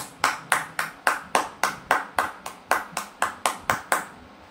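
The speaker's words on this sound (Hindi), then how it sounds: "मेरे साथ एक जोरदार तालियां बजाइए" A steady series of about fourteen sharp, evenly spaced claps at close range, crisp and rhythmic rather than a crowd's scattered applause.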